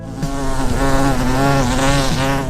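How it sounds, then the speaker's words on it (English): A humble bee buzzes loud and close, a single droning tone that wavers and bends in pitch as it flies about, with nothing else heard. "It's the summertime sound of the humble bee, a species that is shrinking and in danger all over the world."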